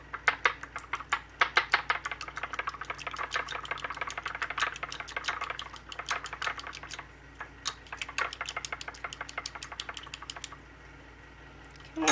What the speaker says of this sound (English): Just going to whisk it up.